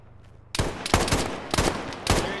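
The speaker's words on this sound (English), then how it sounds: "That sounds more like a 50 cal than it ever has." Heavy .50 cal machine gun firing in the ShackTac military game: four loud, close bursts of rapid booming shots after a short quiet lead-in, with no talking.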